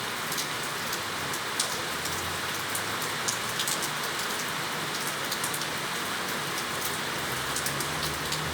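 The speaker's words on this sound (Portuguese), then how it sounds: "Muita chuva." Heavy rain falls steadily on surfaces in Santo Antônio de Pádua, a dense continuous hiss with scattered close droplet ticks throughout and no voices.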